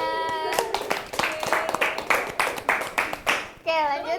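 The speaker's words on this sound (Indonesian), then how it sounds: "tepuk tangan semuanya." A small group claps hands in an Indonesian class or session, scattered uneven claps with a few stronger bursts, while people talk and a voice speaks over the clapping near the start and end.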